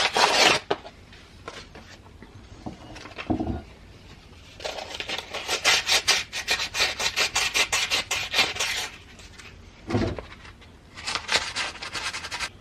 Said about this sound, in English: So for that, I'll find some sandpaper.